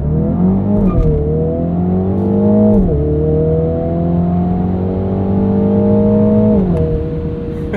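A 2021 Mini Countryman John Cooper Works launches hard under launch control, its engine droning loud and close from inside the cabin as it climbs through gears, pitch rising then dropping at each shift.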